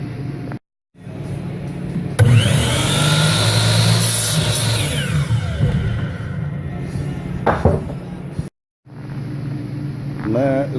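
A power saw cutting wood trim pieces for cases in a workshop, a loud close whining cut that rises and then fades over several seconds, with short silent breaks and some shop noise.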